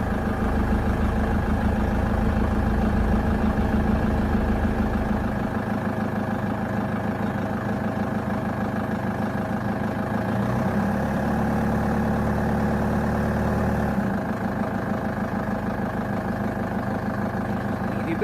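A diesel LTI TXII London taxi engine runs after its glow plugs cycle. It settles into a steady, rumbling idle that drops and shifts in pitch partway through, with no voices.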